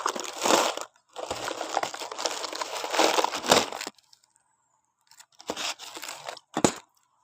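A plastic package of khanom phing snacks is torn and opened, giving loud, close crinkling and crunching bursts that stop briefly and then return in a few short crackles.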